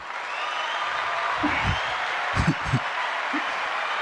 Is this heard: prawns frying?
no